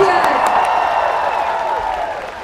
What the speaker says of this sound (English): The noise has gone up in the crowd.